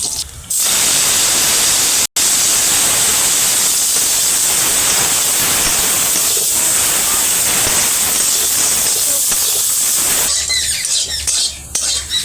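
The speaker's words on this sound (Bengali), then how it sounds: "এইবার একই তেলের কড়াইতে ক্যাপসিকাম দিয়ে ভেজে নেব।" Capsicum sizzling in hot oil in a kadai, a loud, steady hiss and crackle of frying that runs nearly unbroken, with one brief drop near the start and a rougher stretch toward the end.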